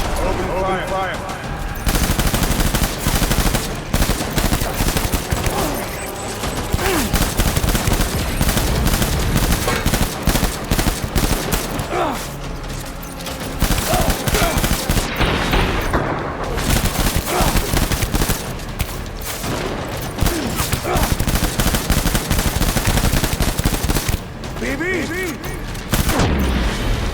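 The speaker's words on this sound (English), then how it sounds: "Open fire!" Soldiers open fire in Death Stranding, loud dense machine-gun fire in long continuous stretches with brief gaps, close and harsh, with a voice shouting at times.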